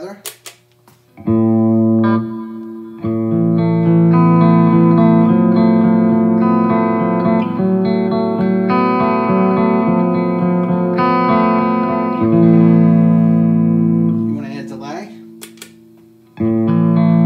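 Electric guitar notes and chords ring out through a Boss Waza Tube Amp Expander with a spacious reverb tail, sustained and fairly loud, with short pauses between phrases.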